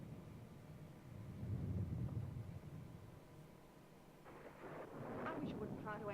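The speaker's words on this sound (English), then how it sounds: "And apparently thunder." In the soundtrack of the film The Mad Monster, a low, faint roll of thunder rumbles in the distance, followed by voices speaking over the background.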